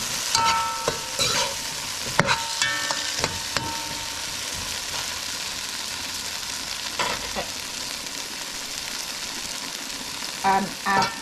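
Curry with curry powder and masala sizzling and frying in a pan, a steady hiss broken by repeated scraping stirs and clinks, close and alone without talk.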